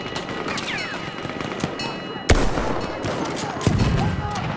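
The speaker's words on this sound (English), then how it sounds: "Wait for the enemy artillery barrage." Enemy artillery barrage in Battlefield 1, with sharp booming impacts and crackling gunfire punctuating a busy battlefield, a loud blast standing out midway and another near the end.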